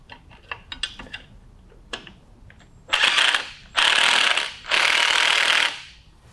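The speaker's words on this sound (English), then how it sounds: "as she's bolting, tightening up the top two, I'll bolt up the rear bolt" Ratchet tightening bolts while installing an LS Victory Series kit, starting with scattered clicks and short bursts, then three long rapid ratcheting runs, loud and close.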